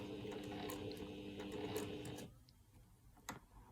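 A sewing machine stitches a Y seam for a bow-tie quilt block with a fast, even mechanical whir, then stops abruptly, leaving a quiet room with a faint click.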